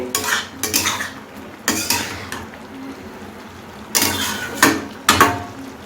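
Bottle gourd stirred in a pot with salt, heard as a series of sharp spoon-on-metal clanks and scrapes in irregular bursts, close and fairly loud.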